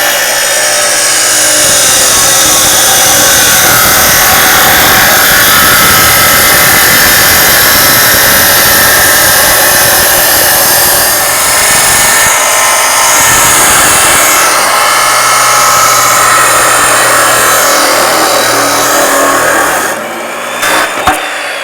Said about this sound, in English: put on your glasses, put on your gloves, plug in your chop saw.